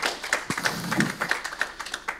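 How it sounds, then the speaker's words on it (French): A small audience at an e-health awards pitch session claps after a presentation, with a few scattered hands patting irregularly at moderate volume for a couple of seconds. "On peut applaudir."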